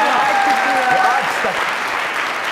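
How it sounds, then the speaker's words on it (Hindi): Loud applause from a comedy show studio audience, close and steady, with a voice talking over the clapping. "उसके लिए जरा तालियां"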